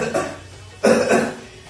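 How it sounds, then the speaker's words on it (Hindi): A person coughs twice, a short burst followed by a louder, longer one, close by with no other sound. "कफ, खांसी करते हैं"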